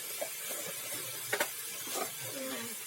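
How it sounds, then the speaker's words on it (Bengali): Chicken meat fries in a pan for a quick chicken curry with potatoes, a steady soft sizzle under occasional scraping stirs and a brief clatter midway, fairly quiet and close. "আর ওখানে মাংসটা ফ্রাই হচ্ছে"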